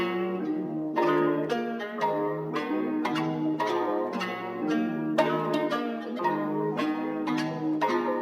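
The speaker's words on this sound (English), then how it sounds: "And the starter sounds like this." A continuous melodic loop of layered plucked and keyed notes plays steadily, full and moderately loud, with no percussion or voices.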